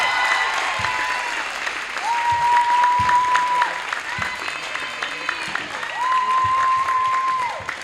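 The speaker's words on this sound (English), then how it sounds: "How about another round of applause for a United Cheer Team?" Applause and cheering from a crowd at a high school basketball game honoring the Unified Cheer Team, steady and sustained throughout, with a PA tone and scattered voices mixed in.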